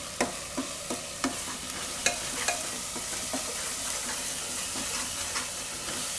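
Spices and Kashmiri red chili powder are stirred through hot oil for a guvar and soya chunk curry, giving a steady low sizzle punctuated by regular spoon scrapes and taps against the pan.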